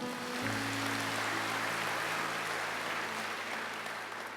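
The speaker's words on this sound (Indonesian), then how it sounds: "Angkat tangan, tepuk tangan." Congregation at an online church service clapping hands, a steady, fairly faint wash of clapping with a low sustained tone running underneath throughout.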